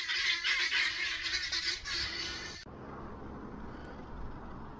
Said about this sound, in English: There must have been about a dozen guinea fowl there, uncaged and roaming free.